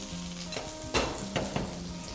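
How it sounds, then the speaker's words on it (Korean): Garlic and sliced onion sautéing in a pan, a low steady sizzle with a few soft scrapes and taps of stirring, fairly quiet and without talk. "노릇노릇해질 때까지 볶아줄게요."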